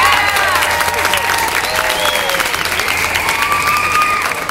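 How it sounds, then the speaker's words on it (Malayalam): A packed fans' show crowd at Thrissur Ragam Theatre roars before the film's curtain raiser, with loud, continuous applause, cheering and shrill whistles rising over one another and easing off only at the very end. "സിനിമ തുടങ്ങുന്നതിന് മുന്നേ ഉള്ള കർട്ടൻ റൈസറിന് കിട്ടുന്ന ആർപ്പുവിളി കേട്ടാൽ അറിയാം തിയേറ്ററിന്റെ പവർ"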